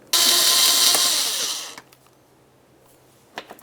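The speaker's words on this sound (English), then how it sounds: "We're going to be looking for this Phillips head screw. Go ahead and remove it." A power driver whirs loudly for about one and a half seconds, backing a Phillips head screw out of a 2006-10 Ford Explorer front wheel well, then stops, followed by faint clicks and small handling taps.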